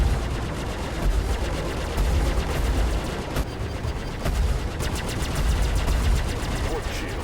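Rapid, continuous spaceship cannon fire and shield impacts ring out during a Star Citizen dogfight between a Tarantula-armed Sabre and a Gladius, forming a dense, loud barrage with sharp hit cracks and a voice talking over it.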